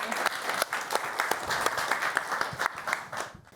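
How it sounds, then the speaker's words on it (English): An audience at a UN panel event claps in a brisk, full round of applause, individual claps audible close by, fading out toward the end. "Give them a round of applause."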